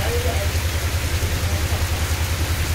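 Heavy rain pours down steadily around a flooded office building in Orai, a dense, even hiss with a low rumbling undertone, no voices heard.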